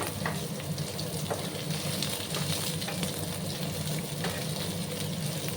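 Tender young ridge gourd frying in a hot pan, a steady close sizzle with fine crackling that runs unbroken throughout, with no talk over it.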